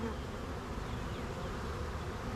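Honey bees buzz around a backyard hive in a dense, continuous drone, close and steady with no voices.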